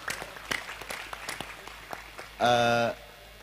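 Scattered hand claps from an audience at a religious talk, a few loud strikes standing out early and fading by the middle. A voice then breaks in with a loud, sustained exclamation.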